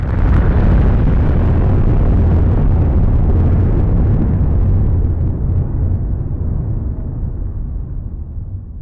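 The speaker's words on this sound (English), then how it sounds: "So an H-bomb is the most powerful and destructive explosion" A massive hydrogen bomb explosion: a huge deep roar and rumble that starts loud and slowly fades away over several seconds.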